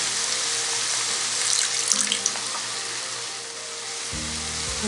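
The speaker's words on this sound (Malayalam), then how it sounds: "ഈ സമയത്ത് അല്പം കൂടെ വെള്ളം ഒഴിച്ചു കൊടുക്കാം." Water is poured into a pan of fish cooking in spiced masala for Kerala-style fish pollichathu, giving a steady close hiss and sizzle with a brief louder surge midway and a low hum near the end.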